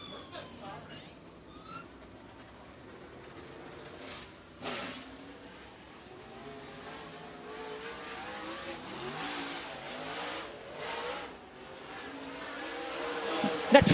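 Race cars lap Lake Cumberland Speedway in Burnside, Kentucky, their engines rising and fading in the distance beneath a steady announcer's voice, with a loud pass near the close.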